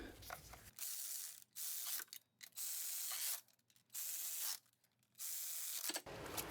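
Ratchet clicking in several short bursts as lower intake manifold bolts are snugged down on a 2016 Honda Pilot, close and fairly quiet, with brief pauses between runs.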